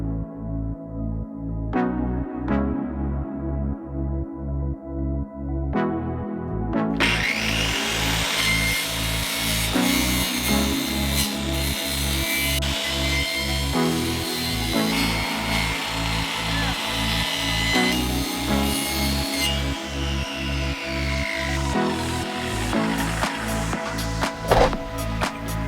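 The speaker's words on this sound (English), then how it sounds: "But let's go ahead and let's get this pipe cut." A pipe is being cut for homemade fruit and nut tree guards, giving a steady, loud rasping saw noise that runs continuously for the whole stretch with a regular strong rhythm, close to the microphone and without talk.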